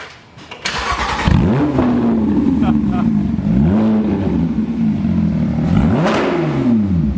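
A Porsche GT3 RS starts and revs its loud exhaust in several rising and falling bursts, a throaty engine snarl that climbs and drops repeatedly, up close, with brief voices in between.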